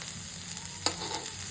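Fried rice being stirred in a pan, a steady close sizzle of frying with a single sharp scrape of the spatula partway through, no talking.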